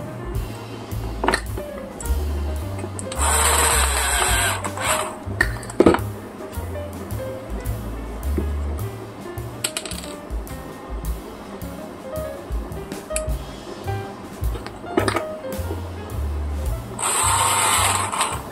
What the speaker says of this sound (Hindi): तो देख लीजिए हमारी मोटर तो ऐसे रन कर रही है